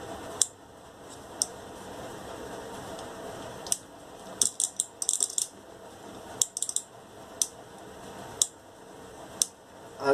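Relays on a maker relay board click as they switch, a series of sharp, isolated ticks spread irregularly over a quiet background, with a short cluster of rapid clicks near the middle.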